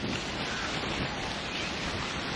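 Steady, loud wind buffeting a microphone on a walk around a lake, a continuous broadband rush with no speech.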